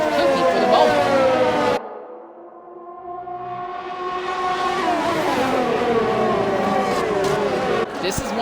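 Race cars from the XRL X3 series at Catalunya, Spain, in a racing video game, trading DRS overtakes down the front straight: loud sustained engine whine with rising and falling pitch, briefly dropping away mid-clip before surging back, under commentary.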